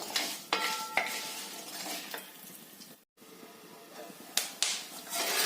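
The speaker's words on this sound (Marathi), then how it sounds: "हे तळत असताना थोडस उडायची शक्यता असते" Spices for kala masala fry in hot oil on a low flame, a close steady sizzle broken by scraping stirs and a few sharp clicks of a utensil against the pan.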